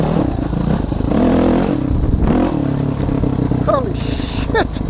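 KTM 350 EXC-F dirt bike engine revs and bogs off-road at Appin, with rising and falling throttle bursts, clatter and scraping, while a rider talks and shouts over it.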